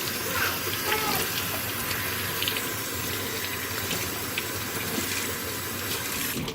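Running water rinses a cleaned flounder carcass down, a steady close splashing wash that continues without a break and with no talk over it.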